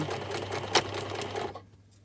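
Sewing machine stitching a French seam in garment fabric, a steady fast mechanical whir running continuously up close before stopping abruptly near the end.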